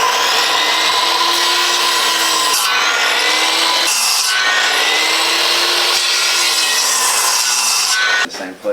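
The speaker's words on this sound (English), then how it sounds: "So now we just kerf it." A power saw kerfs into a timber frame barn post, giving a loud, continuous rasping cut that runs nearly unbroken for about eight seconds, with brief dips in pitch as the blade works through the wood, then stops abruptly.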